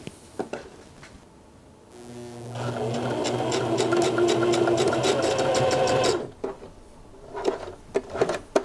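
Sewing machine stitching a half-inch seam on a puff tie piece, a steady close whirring run of rapid needle strokes lasting about four seconds, framed by quieter handling noises before and after.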